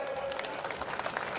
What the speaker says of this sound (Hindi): एक बार पूरे हम सब लोग बाग तालियां बजा करके इनका स्वागत करें, अभिनंदन करें।